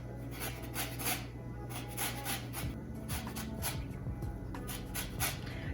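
Lemon peel is rubbed against a metal grater for zest in a kitchen, a soft steady rasping in short strokes over a low constant background hum, quiet and close.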